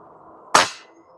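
A single sharp shot from an FX Airguns Crown MkII air rifle firing at 100 yards, a loud crack with a quick decaying tail over a low steady background hum.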